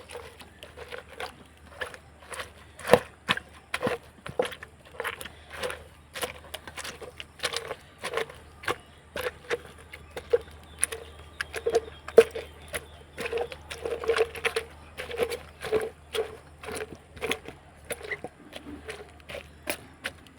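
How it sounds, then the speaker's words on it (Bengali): Boiled cabbage being mashed with the bottom of a steel glass, giving a long run of close, repeated soft thuds and taps in a steady, uneven rhythm with no talking. "স্টিলের গ্লাস নিয়েছি আর স্টিলের গ্লাসের পিছনটা দিয়ে আমি থেতো করে নেব এভাবে করে"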